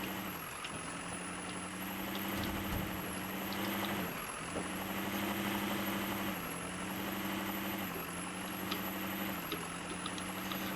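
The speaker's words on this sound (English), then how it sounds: "high whistle that you're hearing" A truck in the MudRunner off-road video game gives off a thin, high-pitched whistle that holds steady across the whole stretch, riding over a low, rumbling engine drone with a few faint mechanical clunks.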